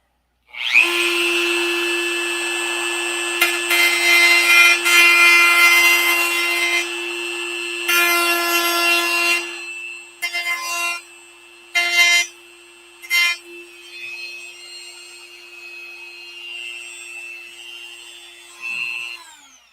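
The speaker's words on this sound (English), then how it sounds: "I guess I'll use the grinder to get that off." A grinder with a $14 carbide wheel removing epoxy from a half-scale Cobra model, a loud high whine with grinding contact that cuts out in several bursts, then quieter intermittent grinding as it winds down.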